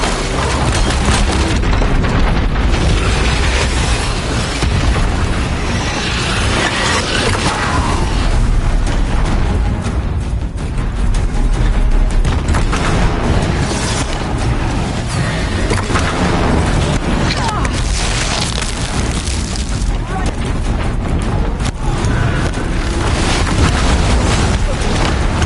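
Disc launcher fire in Horizon Zero Dawn, dense booming blasts and bursts rolling continuously through a loud game battle, with a player talking over it.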